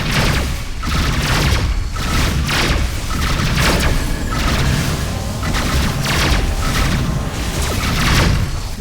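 Incoming missiles explode in a space combat game as a continuous barrage of heavy booms and thuds, loud and close, pounding in repeated waves over a rumbling background.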